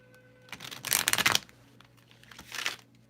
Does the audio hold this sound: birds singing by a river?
no